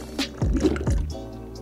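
Drinking a sugar water bottle in modded Minecraft: a short run of wet gulping, dripping slurps, close and fairly loud, lasting about a second, with no one talking.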